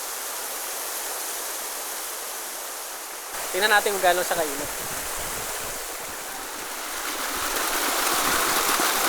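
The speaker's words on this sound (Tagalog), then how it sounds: "Ngayon lang ako nakakita ng hot falls. Hot spring falls." Near a Benguet campsite, a hot spring waterfall gives a steady, close rushing roar throughout, briefly under a short spoken phrase, then swelling slightly louder toward the end.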